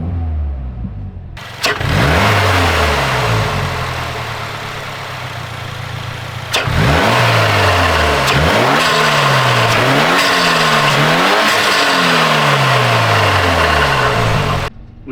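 A Subaru WRX engine fitted with a mechanical diverter valve revs repeatedly with a throaty turbo intake roar, pitch sweeping up and falling back in several quick blips, then holding a loud, close drone.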